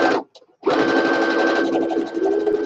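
A sewing machine stitches an apron, with a steady close mechanical whir that stops for a brief moment and then runs again continuously and loudly, with speech in the background.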